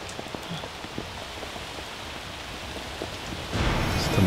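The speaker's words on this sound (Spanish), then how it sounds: "Está muy fuerte la lluvia, ¿eh?" Heavy rain falls steadily in a dense hiss of drops striking surfaces, and it grows louder and closer toward the end.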